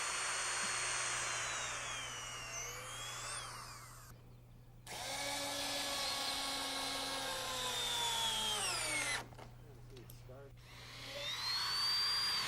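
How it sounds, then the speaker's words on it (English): A power drill whines steadily through several long runs boring pilot holes through wooden decking, its pitch rising and falling, with brief pauses between holes and a constant background hum. "we drill pilot holes through the decking"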